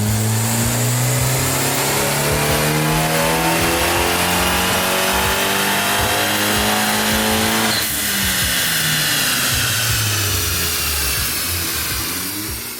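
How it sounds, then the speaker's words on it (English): A big-turbo Dodge Dart/Fiat MultiAir engine revs hard on a dyno, a loud sustained pull with rising tone through gear-like steps and a steady roar, no talk. "it's time for that final dyno run"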